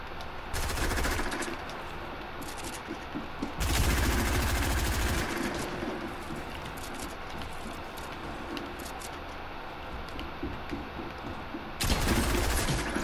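Video game gunfire shooting through a fence, rapid automatic bursts in three loud clusters with quieter crackling shots and ambient game noise between them.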